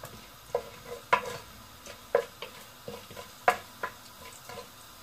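Tempering spices dropped together into hot oil for a potato fry crackle and pop in several sharp bursts over a quiet background hiss.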